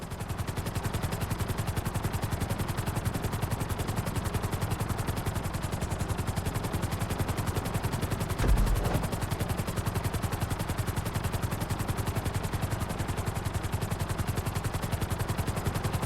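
Helicopter in the GTA V flight school flying a marked course, a steady loud rotor chop with fast rhythmic thumping throughout, with a brief heavier thud partway through.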